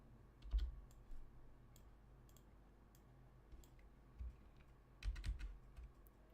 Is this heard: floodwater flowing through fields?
no